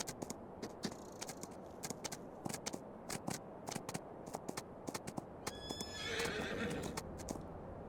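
Horse in Farming Simulator 25 clip-clopping with steady hooves, then letting out a clear whinny near the end, close and fairly quiet.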